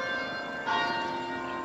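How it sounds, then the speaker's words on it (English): Church bells chime in a Wilmington, North Carolina street, a steady ringing with sustained tones that swell slightly partway through and carry on at moderate loudness. "We got the bells chiming for us."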